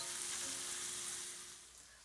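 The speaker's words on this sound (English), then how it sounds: "it looks like our mushrooms are nicely sauteed" Mushrooms sauté in a pan for a beef and mushroom pie, sending up a soft, steady sizzle that fades slightly toward the end with no voices.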